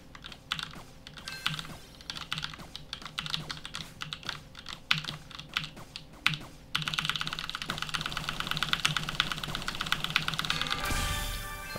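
Rapid keyboard clicking while spamming the F key in the Roblox game Blade Ball, a dense, fast burst of keystrokes that runs almost continuously, growing busier and louder partway through, with no talking.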